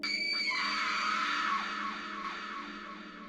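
A scream in an indie horror video game rings out loud and close for about a second and a half, then decays into a fading, echoing tail.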